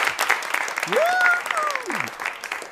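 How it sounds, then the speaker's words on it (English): A talk-show studio audience breaks into applause, with rising and falling whistles and voices mixed into the clapping for a few seconds. "So let's get a round of applause there."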